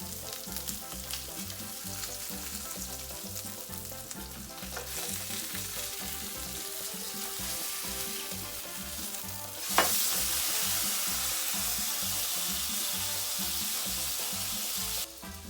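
Salmon fries in a pan with an Asian-style preparation, giving a steady, loud sizzle throughout that surges brighter and hissier about two-thirds through, with no talking.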